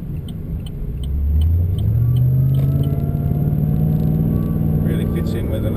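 A supercharged Holden VF Calais engine hums at a low, steady drone while driving, its pitch climbing gently as the car gathers speed, heard from inside the cabin.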